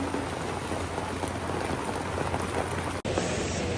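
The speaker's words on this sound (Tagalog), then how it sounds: "Lakas ng ulan" Heavy rain pounding steadily on surfaces close by, a dense, loud and unbroken downpour that dips sharply for an instant near the end.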